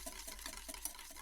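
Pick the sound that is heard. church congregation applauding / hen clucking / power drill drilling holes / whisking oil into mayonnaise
whisking oil into mayonnaise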